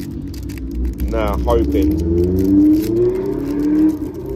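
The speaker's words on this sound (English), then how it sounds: "as you can hear that motorbike going past" A motorbike passes outside a house, its steady engine drone rising and holding for a few seconds under someone talking close to the microphone.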